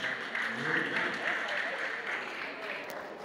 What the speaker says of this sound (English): how about a big round of applause for these ladies?